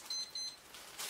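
Timer being set to one minute while developing color film, giving a few short, faint, high electronic beeps in quick succession.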